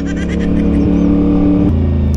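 A CF Moto 450SR-S motorcycle fitted with an SC Project CR-T exhaust, revving loud and close with a steady throaty drone that steps to a lower pitch near the end, no talk over it.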